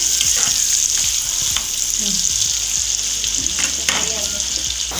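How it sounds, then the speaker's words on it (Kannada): Chilli chicken with curry leaves and capsicum fries in a pan, giving a loud continuous hissing sizzle close by, with occasional stirring scrapes against the metal. "ಕ್ಯಾಪ್ಸಿಕಮ್ ಹಾಕ್ಕೊಂಡು ಇದೊಂದು 5 ನಿಮಿಷ ಫ್ರೈ ಆಗಬೇಕು ಇದರಲ್ಲೇ"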